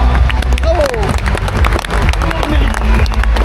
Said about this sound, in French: Allez, un applaudissement plus fort.